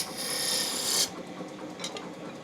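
A turning tool cuts into spinning wood on a lathe, a close, harsh scraping rasp lasting about a second before it stops, followed by a few quieter, brief scrapes.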